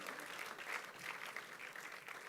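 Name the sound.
round of applause for Joe Weeb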